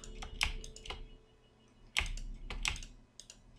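A computer keyboard and mouse being clicked, a few sharp close taps arriving in small irregular bursts with short pauses between them, no voices.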